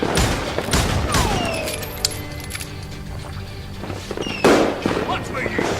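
Gunfire from a Wild West shootout in Call of Juarez Gunslinger bursts out loud and close as a rapid fusillade of sharp cracks, with a heavy blast near the end and a voice speaking in the mix.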